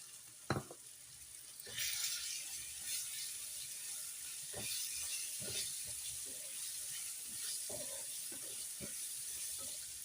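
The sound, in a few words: chicken frying with onions in a pan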